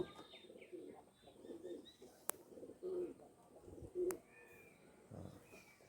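High-flying Madras pigeons coo softly in a repeated low rolling pattern, faint and fairly distant, with a couple of brief sharp ticks among the calls.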